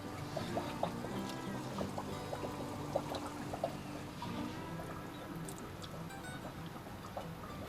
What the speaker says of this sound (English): you got to use like a turkey baster to put water in there